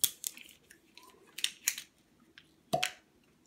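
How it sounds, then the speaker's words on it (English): Henry McKenna Single Barrel 10 Year whiskey bottle being opened, a quiet series of close sharp clicks and scrapes from the seal and cork, ending in a brief squeaky pop. "So let's open this bottle here."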